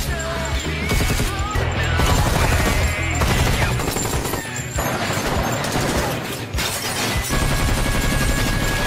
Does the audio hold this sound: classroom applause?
no